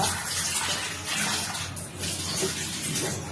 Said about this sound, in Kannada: ಚಾದ ನೀರು ಕುದಿಸಿದ ಅದನ್ನು ಹಾಕ್ತಿದ್ದೇನೆ ನೋಡಿ.